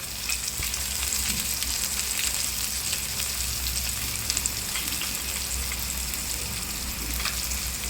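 Capsicum fries steadily in a pan with spices and salt as tomatoes and garlic go in, making a continuous bright sizzle with some stirring, close and even throughout.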